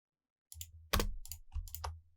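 Several crisp, close keyboard clicks from a computer keyboard in a quiet room, a short cluster of separate keystrokes with one sharper press in the middle, including the Ctrl key.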